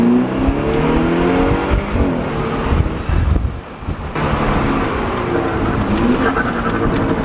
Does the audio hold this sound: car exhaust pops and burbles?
yes